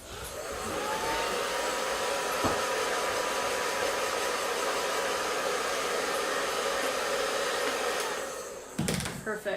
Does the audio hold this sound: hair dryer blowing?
yes